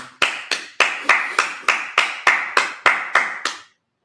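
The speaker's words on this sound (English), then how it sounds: "Clap it up." People at a Sabbath service clap in a steady, even rhythm: about a dozen sharp, close claps at roughly three per second, each ringing briefly in the room before the clapping stops abruptly.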